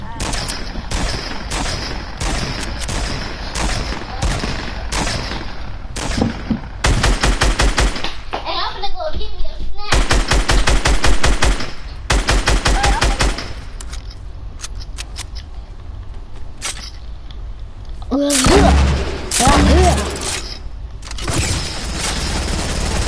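Rapid video game gunfire, long bursts of automatic shots alternating with brief pauses and occasional booms, loud and close throughout, with players talking at times.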